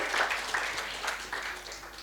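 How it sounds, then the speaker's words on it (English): Faint, distant applause from an awards ceremony audience, a soft rolling patter of many hands clapping that rises and dips slightly over a couple of seconds. "Can we have a big round of applause for all the awardees out here?"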